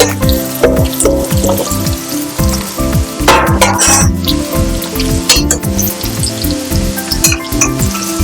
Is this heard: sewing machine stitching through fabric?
no